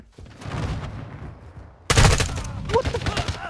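Gunfire in Call of Duty Modern Warfare 2: a quieter stretch of game sound, then a sudden loud burst of rapid shots that keeps rattling on with further bursts.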